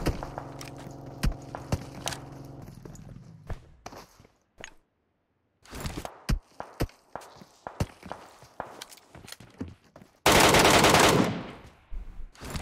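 Gunfire in PUBG Mobile, a ranked solo match around a small hut, with bursts of rapid automatic shots, single cracks, and running footsteps, ending in a loud, sustained close-range burst.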